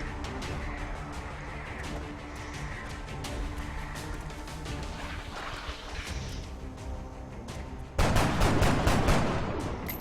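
Gunfire in the XCOM tactical video game: muffled, continuous combat noise, then a loud rapid burst of shots near the end.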